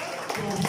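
Brief burst of audience applause in a room, steady crowd clapping at moderate level.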